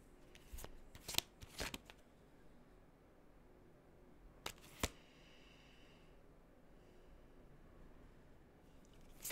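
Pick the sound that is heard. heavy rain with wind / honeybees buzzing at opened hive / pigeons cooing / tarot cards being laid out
tarot cards being laid out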